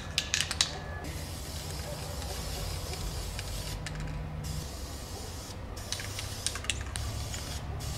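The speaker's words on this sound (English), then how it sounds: "I'm just gonna go ahead and spray paint them." Aerosol spray paint hisses onto stone crab trap buoys at an outdoor painting station, in several short bursts of roughly a second each, separated by quieter gaps with faint mechanical clicks.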